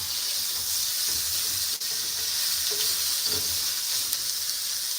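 Chorizo sizzling and starting to burn in a hot skillet: a steady, bright hiss of frying fat with small crackles and pops throughout, close and continuous.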